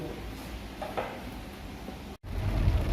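Steady rain falls outdoors as a dense, constant hiss, with a low rumble swelling near the end that may be distant thunder.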